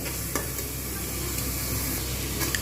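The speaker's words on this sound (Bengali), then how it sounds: "মশলাটা আমি খুব ভালো করে কষে নিয়েছি" Spice paste for a mutton curry with potatoes sizzling steadily in a hot pan, a dense close frying hiss with occasional faint scrapes of a spoon as it is stirred.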